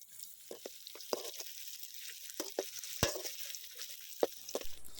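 Green chilli and spring onion sizzle in hot oil in a pan while a restaurant-style dragon chicken dish is cooked. There is a steady close frying hiss, with scattered spatula scrapes and taps on the pan.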